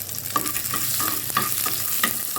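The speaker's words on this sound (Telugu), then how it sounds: "పోపు మాత్రం వేసేసాను." Tempering spices crackle and sizzle in hot oil for a ridge gourd chutney, with a continuous close hiss and quick rhythmic stirring scrapes.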